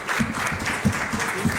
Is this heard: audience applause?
yes